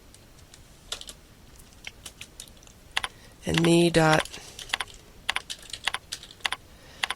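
Typing on a computer keyboard while programming, sparse soft key clicks spread across the clip with a speaking voice around them and a brief louder tonal burst in the middle.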